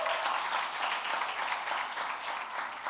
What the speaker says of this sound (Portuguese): Vamos aplaudir a Deus pela vida deles.